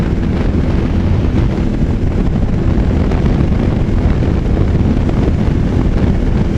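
Loud, rushing wind buffets the microphone continuously while riding a motorcycle, a heavy roaring rumble.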